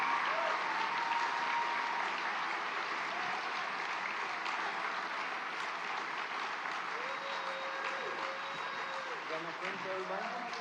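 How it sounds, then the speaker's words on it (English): Steady round of applause from an audience at a gathering, a continuous dense wash of clapping that holds at an even level for the whole stretch, with faint tonal sounds drifting above it. "why don't you give them a round of applause as they make their way up here"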